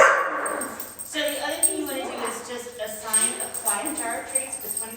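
Ginger, a pet dog, barks and yips close by in a quick series of sharp barks mixed with whiny yelps, while people talk at the same time.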